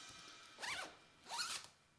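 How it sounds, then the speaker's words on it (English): Two quick zips of a clothing zipper, each a brisk rising rasp, close and clear with no talking over them. "Maybe I'll just zip this up a little."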